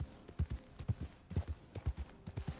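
A horse walks along in Red Dead Redemption 2, its hooves clip-clopping in a steady, even rhythm of soft, close thuds, quiet and alone.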